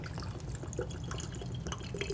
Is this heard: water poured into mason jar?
yes